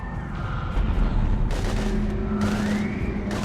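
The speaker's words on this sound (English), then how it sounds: "We're about 5 minutes out." Gunfire in the sci-fi shooter video game Mass Effect 3 as heavy fire is exchanged against Husks: dense, loud bursts of shots over a constant roaring battle din.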